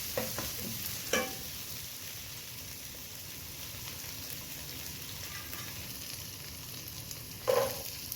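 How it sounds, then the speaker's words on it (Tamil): Chopped curry leaves fry in oil with a constant steady hiss, broken by a couple of brief clinks of stirring. No voices. "அந்த எண்ணெயில் வந்து வதக்குங்க. கருவேப்பிலை கொஞ்சம் ஆட் பண்ணிக்கோங்க."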